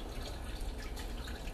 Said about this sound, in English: slowly pour it on top of the rocks.